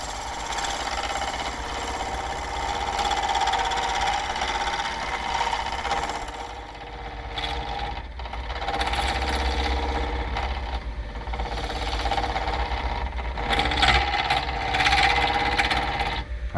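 Machine running a negative rake cutter at low speed, a steady loud mechanical drone with rattling, slightly uneven chatter that dips in the middle and then picks back up, with no talking.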